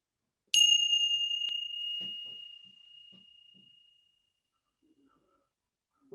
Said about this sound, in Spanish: Y nos vamos preparando para ir volviendo después del sonido de la campana.